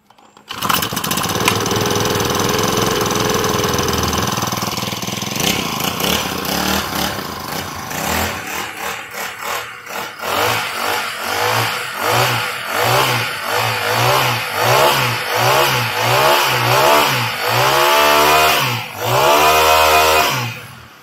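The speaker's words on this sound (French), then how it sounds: "nous avons là un moteur de débroussailleuse 4 temps que je vais faire tourner quelques instants devant vous" A small four-stroke brush cutter engine runs loudly nearby, first idling unevenly, then revving up and down repeatedly in rising and falling bursts.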